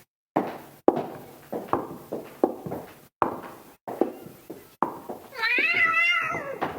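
A series of sharp knocks and footsteps in a rhythmic run, followed by a cat's drawn-out, wavering meow close by.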